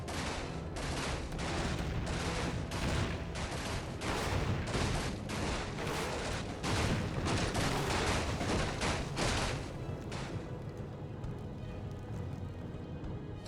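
Rapid bursts of game gunfire as dwarven riflemen defend a stronghold against undead attackers in Warcraft 3, loud and dense for about ten seconds before easing into a quieter battle din.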